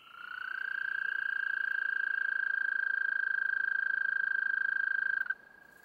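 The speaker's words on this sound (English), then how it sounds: "Bullfrogs and toads fill the air with mating calls." A steady, sustained trilling call from a toad or bullfrog mating chorus holds one pitch for about five seconds, loud and close, then cuts off abruptly.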